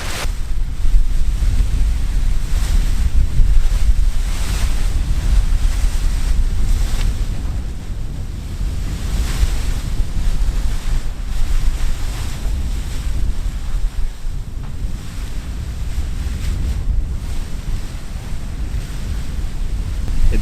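Turbulent, gusty wind blows steadily near a windsock, a loud rumbling roar that buffets the microphone without pause and swells and eases slightly over about twenty seconds. No voices are heard.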